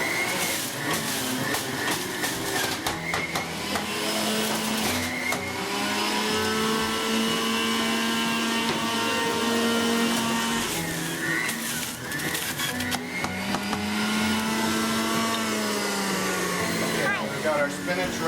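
A Breville JE98XL juicer runs while juicing tomatoes, giving a loud, continuous motor whine that shifts slightly in pitch and strains as the produce feeds through.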